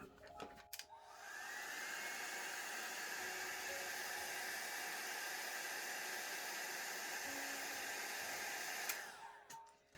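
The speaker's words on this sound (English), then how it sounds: "And then I want to dry it." A hair dryer blowing on alcohol ink, switching on with a click, running as a steady close whooshing roar for about eight seconds, then shutting off.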